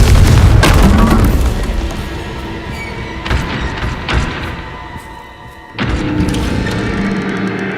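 Confringo blasting spell explosions in Hogwarts Legacy: a heavy boom opens, then several more thudding blasts follow at irregular intervals, each with a rumbling tail, loud and close.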